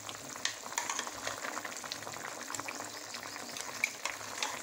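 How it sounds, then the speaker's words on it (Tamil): Potato kurma simmers in a pan, giving a steady bubbling, sizzling rumble with small pops throughout, close and continuous with no voices. "இப்போ நல்லா கொதிச்சிருச்சு, நம்ம அரைச்சி வச்ச மசாலாவை இதில் போட போகிறோம்."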